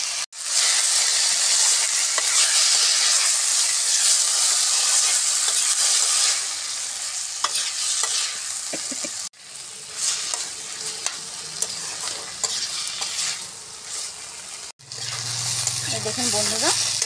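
Home-grown mushrooms sizzling in a pan with cumin powder, a loud steady frying hiss broken by scraping stirs and two brief cuts, with faint talk in the background.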